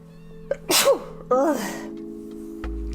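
A single close, forceful sneeze with a short gasping intake beforehand, then a lingering breathy exhale.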